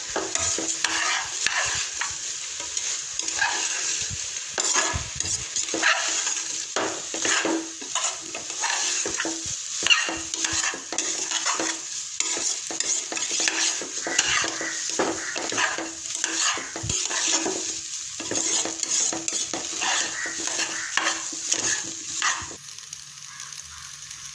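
Rice is sautéed in a pan for a Christmas meal, with repeated rhythmic scraping strokes of a spoon against the pan over a low sizzle throughout, and no speech.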